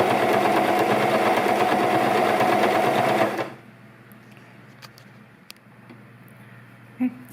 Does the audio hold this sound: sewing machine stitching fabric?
yes